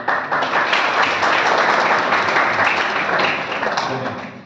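Audience in a college hall clapping for the teachers at a Women's Day event, a dense burst of applause that swells, then gradually fades toward the end.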